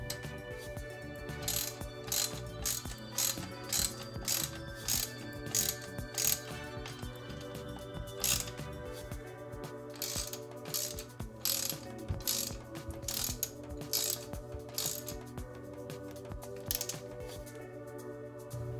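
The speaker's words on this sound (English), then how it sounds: "thread on the bottom foot nuts on both sides, and use our socket to reach manufacturer's torque spec" A socket ratchet tightens the bottom foot nuts on a Fox or RockShox mountain bike suspension fork, giving steady runs of close, crisp clicking strokes with brief pauses between them.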